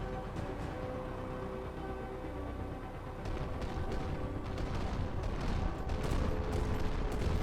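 Dense, continuous rapid gunfire, including a rapid 30mm cannon, and booming blasts in Carrier Command 2 combat, growing louder partway through, with no speech.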